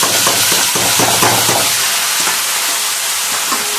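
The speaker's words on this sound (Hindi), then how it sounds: "इसको थोड़ी देर भूनेंगे जब तक ये गोल्डन ब्राउन ना हो जाए।" Cauliflower pieces frying in a pan with already fried onions, giving a loud, steady sizzle with a few stirring knocks near the start.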